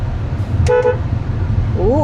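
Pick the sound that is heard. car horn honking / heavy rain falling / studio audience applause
car horn honking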